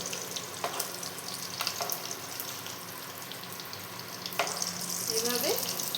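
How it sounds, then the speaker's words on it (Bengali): Bitter gourd (korola) fries in a pan, a steady sizzle with occasional clinks and stirring knocks from the spatula, close and moderately loud. "এই যে এইভাবে হালকা হাতে আর খুব মানে ভালো মতো ভাজতে হবে।"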